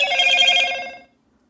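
A telephone bell rings in one loud, steady trill lasting about a second, then stops abruptly into silence.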